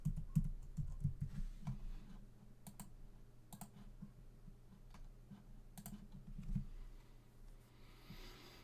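Typing on a computer keyboard to log in: quiet bursts of key clicks, quick clusters separated by brief pauses, close and soft with no speech.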